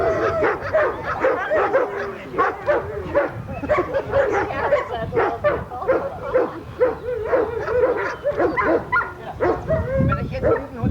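Dog barking and yipping repeatedly during bite training in a protection-sport session, loud and close, with continuous energetic barks throughout alongside people talking.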